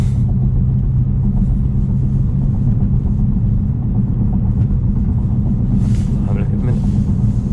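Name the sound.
800BHP Stage 2 BMW F90 M5 accelerating at top speed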